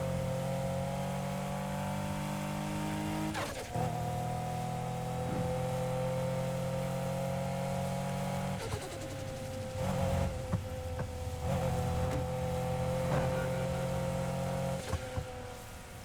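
A car engine in the racing game NFS Heat drones steadily with a tonal hum, rising and dropping in pitch with gear shifts, moderately loud and without talk.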